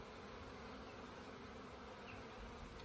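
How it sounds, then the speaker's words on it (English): Bees flying around a nuc hive on a cool, sunny day in North Devon, a steady low droning hum of many insects, faint and continuous with no talk. "the bees are flying well. There's a steady"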